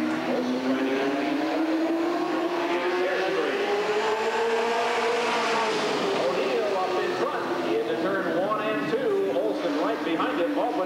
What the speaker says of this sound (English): 84 car may have started to get on the gas a little quick and gotten a little out of shape on the high side